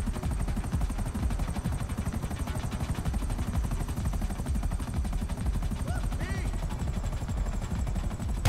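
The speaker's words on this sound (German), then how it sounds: "Alter, ich sitze hier beim Psycho im Heli." Helicopter in GTA Online flying steadily, its dense rotor chop and engine roar constant and loud throughout, with faint crackles of gunfire mixed in.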